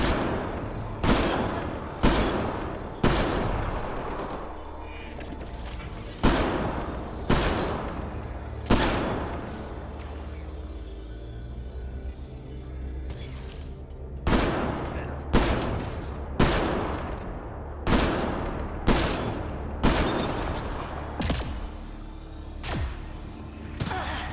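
Mass Effect Andromeda game combat with a wall turret firing, repeated heavy blasts and thumps in irregular bursts over a dense rumbling background, some arriving in quick pairs, loud throughout.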